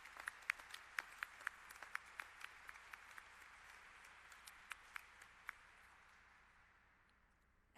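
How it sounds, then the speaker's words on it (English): Applause from the audience at an FAA Administrator swearing-in ceremony, scattered claps rising at first over a steady wash of clapping that gradually fades out toward the end. "give a round of applause to Dan Elwell"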